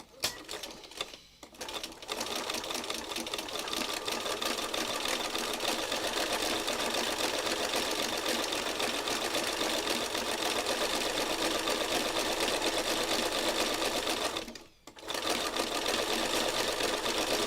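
A sewing machine stitches two fabric squares together for a meandering book in a near-satin stitch, running loud and steady with a rapid mechanical chatter, broken by two brief pauses near the start and end.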